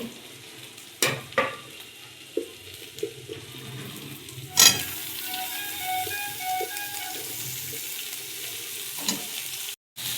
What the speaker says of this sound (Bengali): আলুটাকে দিব একটু ভাজবো